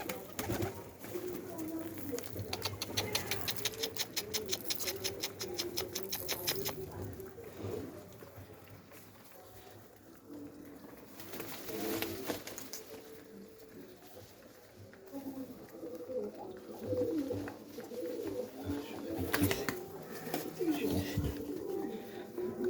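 Soft pigeon coos recur through the scene amid outdoor bustle, with people talking and calling nearby throughout, as pigeons are coaxed toward a flock.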